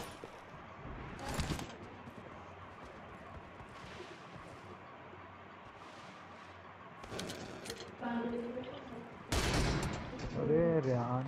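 Gunfire in the mobile shooter game M24, sharp bursts of shots around the start, at about seven seconds and near nine to ten seconds, mixed with voices talking over the game sound.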